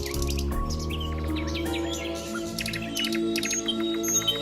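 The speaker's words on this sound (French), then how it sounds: "Une heure de musique relaxante avec le magnifique chant des oiseaux." Spring birds sing in quick, bright chirps and trills scattered over a steady bed of soft relaxing instrumental music, with no talking.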